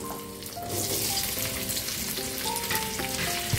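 Hog plums stir in hot oil with turmeric for a pickle, giving a steady close sizzle with tonal clinks and scraping through the frying and no talk.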